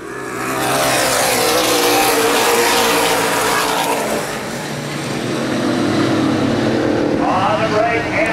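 Late model race cars roar around Baer Field Speedway during a Great Lakes Outlaw Late Model Series 100-lap feature, engines loud and sustained as they accelerate down the back straight and through the turns, with a race commentator talking over them.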